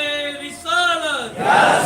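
A crowd at a religious celebration of Imam Hussain's birth shouts a loud, drawn-out slogan in unison, answering the Nara-e-Risalat call with a sustained, rising communal cry.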